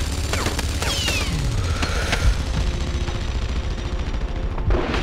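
Gunfire in the World War II shooter game Enemy Front comes in loud, rapid bursts of shots with booming impacts, set against continuous game background noise.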